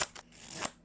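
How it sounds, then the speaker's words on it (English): Pharaoh shuffle of a Legends Playing Card Co. diamond finish deck: a brief, close riffling and snapping of the cards with a couple of sharp bursts, no talk. "apart from that Pharaoh shuffle there"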